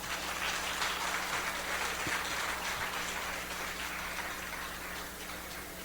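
A church formation session audience claps together, a dense, even patter that sounds almost like rain, steady and moderately distant, with a low hum underneath.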